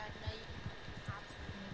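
Horse hooves clip-clop at a steady walking rhythm during riding in the Red Dead Redemption video game, a soft repeated thudding beneath a continuous game ambience.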